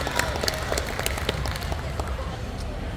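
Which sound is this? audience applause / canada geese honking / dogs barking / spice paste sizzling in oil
audience applause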